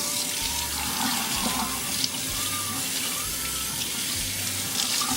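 Tap water runs steadily into a sink while a Thanksgiving turkey cavity is rinsed, a loud close splashing stream with uneven gurgles as the water hits the bird.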